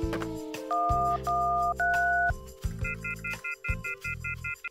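Phone keypad dialing on a dead telephone line in a fog-bound village inn: a run of clear touch-tone beeps, several short paired tones in quick succession, close and fairly loud with no voices.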